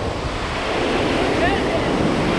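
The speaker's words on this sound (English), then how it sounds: "Wind is really irritating." Strong wind buffets the microphone at a Florida spillway during light-tackle tarpon and snook fishing, a steady loud roar mixed with rushing water that persists through the whole stretch with no break.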